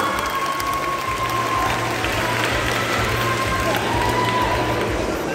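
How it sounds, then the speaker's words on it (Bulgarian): Applause from the audience at the Queen of Burgas 2022 beauty pageant for contestant number 4, Erika Atanasova: steady dense clapping filling the hall, with a low tonal hum and a faint whistle running underneath. "Аплодисменти за номер 4,"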